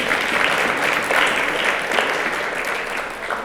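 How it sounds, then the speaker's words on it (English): Audience applauding a panel at a US-Africa business expo, a steady wash of many hands clapping in a hall, moderately loud and unbroken throughout. "last round of applause for this panel"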